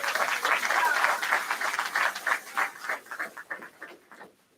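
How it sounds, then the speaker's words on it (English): A round of applause from the crowd at a school grand opening and ribbon-cutting ceremony, strong at first and then thinning into scattered claps that fade out. "Let's give him a nice round of applause."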